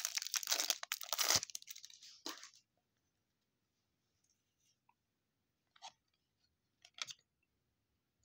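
Packs from a 2020 Diamond Kings baseball card hanger box ripped open, a loud, close crinkling tear lasting about two seconds, followed by a few brief, faint rustles of foil wrapping.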